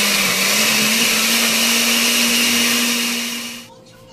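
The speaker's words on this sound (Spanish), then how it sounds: "Lo vamos a licuar muy bien." A loud, steady blender whirs continuously as it purées a creamy sauce of evaporated milk, then cuts off abruptly near the end, leaving near silence; faint talk may sit beneath the motor.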